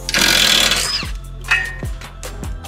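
An impact wrench works loose the stabilizer bar end link bolt on a Honda Element, a loud close buzzing whir of about a second, then a few short hammering bursts with quiet gaps between.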